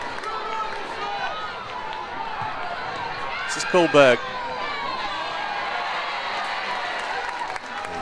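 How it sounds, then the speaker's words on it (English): Football stadium crowd at a Women's FA Cup match between Brighton & Hove Albion and Manchester United, a steady roar of cheering under commentary throughout, with a short louder surge around the middle. "you can hear that that's got the crowd up here"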